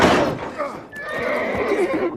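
A horse gives a loud, close whinny that rises and wavers for about two seconds, with a hint of hoof clatter and a voice briefly heard at the start.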